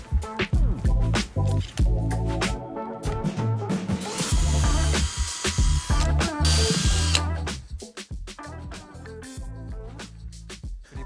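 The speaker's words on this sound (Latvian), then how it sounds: "mēs izlīdzinām 3 dēļus savā starpā un izurbjam 2 4 mm caurumus" A power drill bores 4 mm holes through three lined-up wooden boards, its motor whining loudly in bursts with brief pauses, grinding and rattling as the bit cuts the wood.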